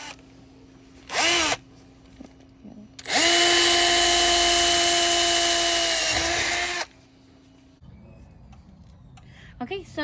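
A cordless power drill bores holes in metal mounting tabs during a Jeep Wrangler LED wheel ring light install: one short burst, then a long loud steady whine of about four seconds, with quieter pauses and brief tool noise between.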